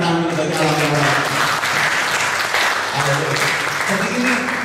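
A church congregation clapping, loud dense applause sustained throughout with voices blended in.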